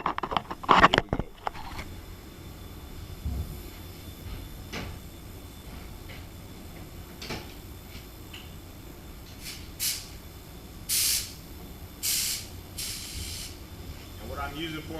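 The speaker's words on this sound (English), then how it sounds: "I'm gonna spray this exactly how I'm spraying the bumper" Paint spray gun, an LPH 300, applying sealer and base coat to a Lamborghini bumper in a three-stage pearl repaint; short hissing bursts of spray stand out sharply, with quieter shop noise in between.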